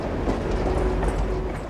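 A train rolls along in a scene from the film Schindler's List, a continuous dense rumble with faint rhythmic rattling of railcars and a thin squealing tone running through it.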